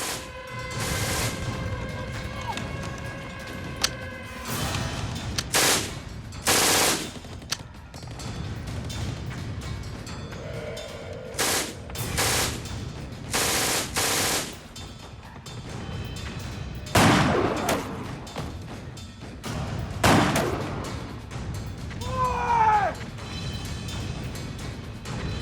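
Wartime battlefield sound effects of machine gun and artillery fire for a WWII Canadian beach landing, with repeated loud booms and rattling bursts over a constant rumbling background, some blasts separated by brief lulls.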